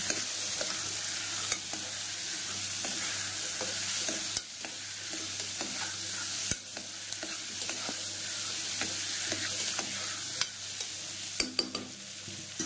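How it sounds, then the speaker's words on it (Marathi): Turmeric being stirred into hot oil in a pan: a low, constant sizzle with repeated close scrapes and clicks of a spoon, and a few sharper knocks, with no voices present. "हळद तेलामध्ये घालायची, त्यानंतर आपण छान मिक्स करून घेऊया।"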